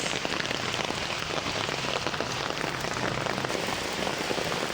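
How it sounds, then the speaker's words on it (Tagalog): Heavy rain pours down in a constant dense hiss amid flooding, drumming hard on surfaces nearby, loud and unbroken with no voices. "Malakas ang ulan."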